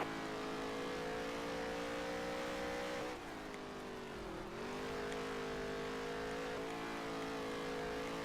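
Race car drifting on a dirt oval in NASCAR Heat 3, a steady droning engine holding pitch, dipping briefly in the middle and then climbing back, close and continuous with no talk.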